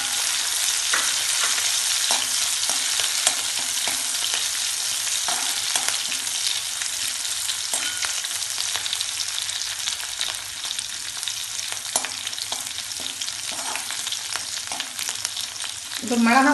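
Two cut green chillies sizzling and crackling in hot oil in a pan for prawn puttu, with steady frying hiss and intermittent stirring scrapes throughout, loudest at close range with a brief louder burst at the end.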